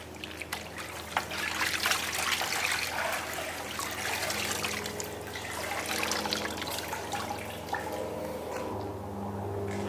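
A cleaning towel is sloshed and wrung in a bucket of water, giving a continuous close trickle and dribble with splashy surges, steady and moderately loud.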